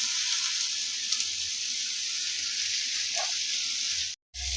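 Egg pieces fry in a pan with a steady, soft sizzle, close and even, broken by a brief silence near the end.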